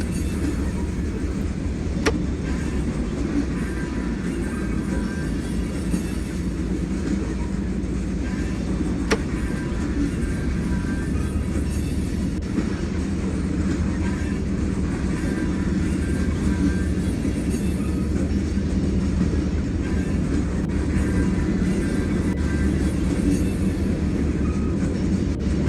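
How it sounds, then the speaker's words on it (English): Union Pacific local train locomotives switching at Summit in the Run 8 train simulator give a steady, loud diesel engine rumble that continues throughout with occasional faint clanks. "Thomas has disconnected the locomotives from the rest of the train"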